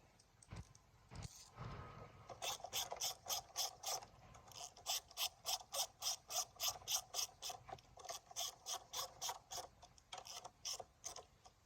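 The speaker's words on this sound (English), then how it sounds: "I'm going to tighten up these two 10mm nuts" A ratchet wrench tightens two 10mm nuts on the carburetor of a Kohler Courage engine, fitting a replacement Hipa carb. Steady, rapid clicking comes in rhythmic bursts after a few faint knocks, close and fairly quiet.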